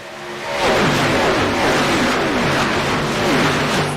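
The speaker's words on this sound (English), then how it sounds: "Taking a listen to these guys ripping and roaring around this track." Stock race cars roaring around the Daytona track, a continuous loud engine drone with rising and falling pitch sweeps as several cars pass close by, no talk over it.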